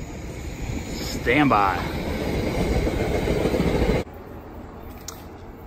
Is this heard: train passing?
yes